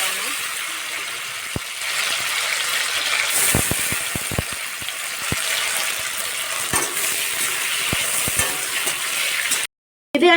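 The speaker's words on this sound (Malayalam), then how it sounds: "അത് ഇവിടെ എണ്ണയ്ക്കകത്ത് വറുത്തെടുക്കാൻ പോകണം." Raisins fry in hot oil with a soft continuous sizzle, broken by scattered sharp clicks and taps of a utensil against the pan, then a brief drop to silence near the end.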